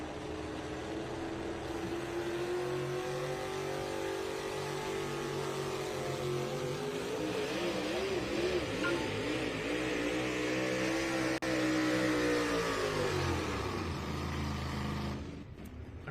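A four-wheel drive pulling truck at an NTPA Grand National truck pull at the Henry County Fair roars loudly and steadily on the track. Its engine pitch climbs and wavers mid-run, then sags and cuts off near the end.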